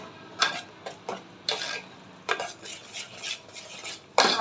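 A spoon scrapes and stirs Marathi-style Bhogi vegetable curry with salt and garam masala paste in a pan, giving uneven bursts of gritty scraping and clatter, close and moderately loud, with short pauses between strokes.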